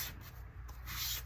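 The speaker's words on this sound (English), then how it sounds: "Push it down and then get your sponge or whatever it is you're using to mop up the glue." A sponge is rubbed firmly over freshly glued paper in an altered composition notebook, giving a steady, close scrubbing sound with a brief pause and no talk.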